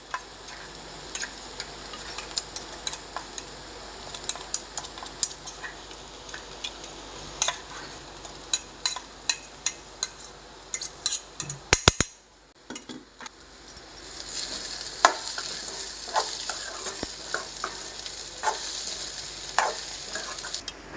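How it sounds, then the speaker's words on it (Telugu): Steady sizzling of masala frying in a pan for egg curry, with frequent scraping and clinking as a utensil stirs, a brief quiet dip midway. "ఇప్పుడు ఈ మసాలాని ఇందులోకి వేసుకుందాం."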